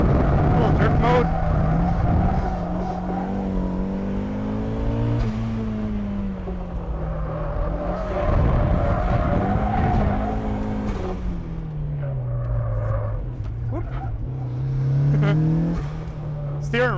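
A turbocharged Mazda Miata engine revs and drones while the car drifts, its pitch rising and falling through long slides with faint tire noise, loud and close, with people talking over it.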